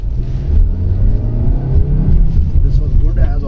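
A 2022 Maruti Suzuki Baleno petrol hatchback with three people aboard and the AC running accelerates, its engine a steady low rumble from inside the cabin with faint voices mixed in.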